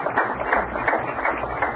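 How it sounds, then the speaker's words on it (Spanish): Audience applause greeting a state governor at a televised political gathering, steady clapping from a sizable crowd sustained throughout at moderate distance. "vamos a darle un aplauso, a saludarlo"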